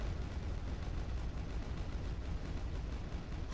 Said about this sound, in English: You sure you don't want any more explosions?